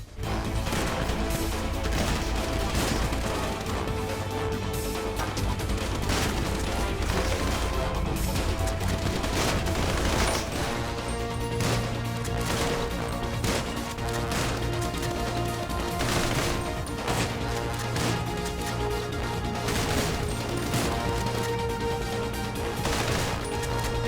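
Continuous, fairly faint gunfire from a shootout in the video game GTA V, dense bursts of shots and crashes running steadily with no pauses.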